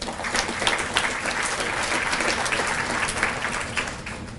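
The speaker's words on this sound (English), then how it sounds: "Let's all give him a round of applause." An audience applauds after a community event speech by the co-founders of Pillars of Peace, steady dense clapping filling the whole stretch at moderate loudness with no voices.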